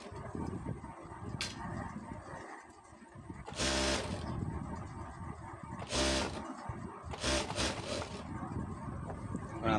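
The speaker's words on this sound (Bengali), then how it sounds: "সেলাই দিয়ে ফেলতেছি।" A sewing machine stitches a kameez sleeve, sounding in close, loud bursts of rapid mechanical whirring separated by quieter handling noise, with no voices.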